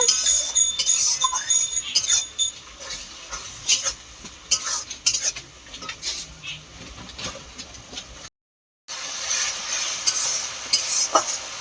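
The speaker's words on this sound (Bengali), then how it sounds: "দিয়ে আরো 1 মিনিট মশলাটিকে আমি কষিয়ে নেব" Spice paste for Bengali fish kalia sautéing in a pan, a steady close sizzle with frequent scraping stirs and light clinks of a spatula against the metal, briefly cutting out before resuming.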